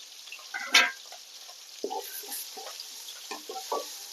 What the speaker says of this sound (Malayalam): ഇനി ഇതിലോട്ട് നമ്മൾ കട്ട് ചെയ്ത് വെച്ച തക്കാളിയാണ് ഇട്ട് കൊടുക്കുന്നത് ഇനി ഇത് നല്ലൊന്ന് വഴറ്റിയെടുക്കണം